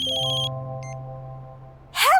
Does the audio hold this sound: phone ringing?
yes